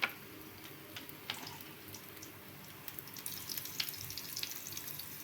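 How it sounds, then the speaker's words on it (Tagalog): Garlic sautés in oil in a pan with a soft, steady sizzle, fairly quiet and close, with a few light clicks and pops scattered through. "Magisa-gisa lang ho tayo ng bawang."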